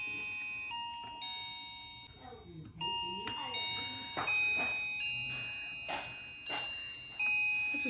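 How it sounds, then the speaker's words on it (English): A bright electronic doorbell tune from a Snap Circuits kit repeats in a chiming pattern, with short bursts of talking and laughter cutting through. "Melody, that's what the doorbell is."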